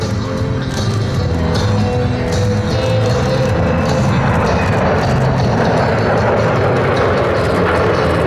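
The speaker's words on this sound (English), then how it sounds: "C-17 Globemaster III from McCord Air Force Base from the left in the overhead brake for landing." Loud, steady jet roar of a USAF C-17 Globemaster III from McChord Air Force Base passing overhead in the overhead break for landing at the Abbotsford Airshow, a continuous broadband rumble filling the whole stretch.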